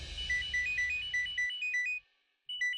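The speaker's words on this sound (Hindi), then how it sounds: "फोन आ रहा है" A bright electronic ringtone plays a quick repeating melody, pauses briefly, then starts again, fairly quiet and with no voices.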